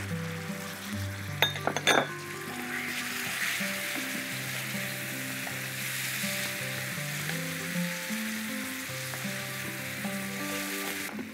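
Salmon fish frying with lemon slices in a pan over low heat, a steady close sizzle with a few sharp clinks of utensil against the pan early on, no talking.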